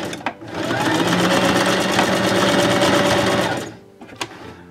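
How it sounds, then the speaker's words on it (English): A sewing machine runs in one steady, fast stitching burst for about three seconds, loud and close, with brief clicks before and after. "put it under the sewing machine and do a"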